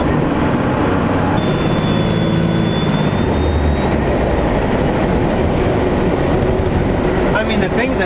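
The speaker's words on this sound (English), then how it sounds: "That's the turbo." A compound-turbo 12-valve Cummins truck on the move, its turbo spooling with a faint rising whistle over loud, steady road and engine rumble, and someone talking in the cab.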